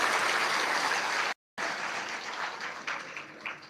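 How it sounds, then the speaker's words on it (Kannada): A crowd of devotees at a Basava Purana recitation applauds loudly in a dense, continuous wash of clapping. A brief dropout breaks it, and the clapping then carries on, slightly softer. "ಮತ್ತೊಮ್ಮೆ ಜೋರಾದ ಚಪ್ಪಾಳೆಯೊಂದಿಗೆ ಗೌರವಿಸಿ."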